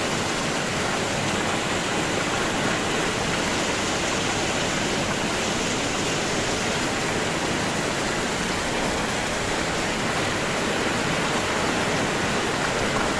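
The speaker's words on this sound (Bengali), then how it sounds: "এইভাবে বৃষ্টি হোগা তো" Heavy morning rain in Kerala pours down as a steady, dense roar of broadband hiss that holds constant throughout, with no voices.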